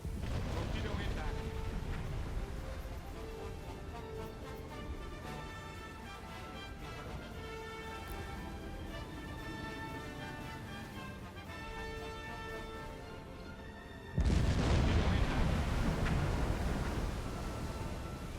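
Torpedo hits detonating in the Silent Hunter 4 submarine game, a sudden loud, heavy explosion rumble cutting in late over a long stretch of game ambience and music, then sustained roaring blast noise to the end.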